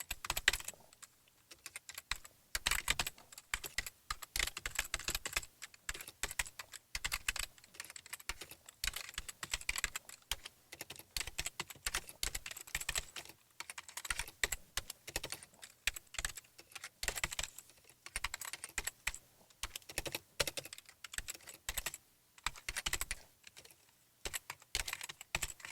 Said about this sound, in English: Go ahead and type out this other SQL statement.